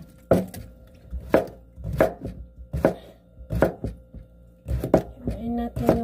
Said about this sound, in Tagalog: Tapos hiwain natin yung mushroom.